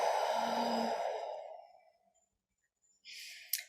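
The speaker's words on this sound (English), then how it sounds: "So take one more deep breath." A slow, deep breath drawn in and let out audibly during a guided calming exercise, a soft breathy rush lasting over a second and fading, followed by quiet and a brief soft sound.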